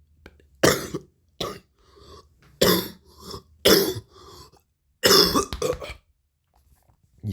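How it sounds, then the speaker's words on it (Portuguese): A person coughs repeatedly in short, sharp bursts close to the microphone, separated by brief silences, with a little throat clearing mixed in. "Tosse."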